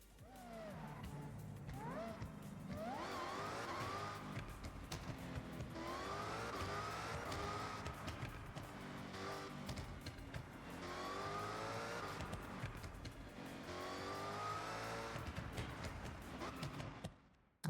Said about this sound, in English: I might build another one and check the exhaust out on that one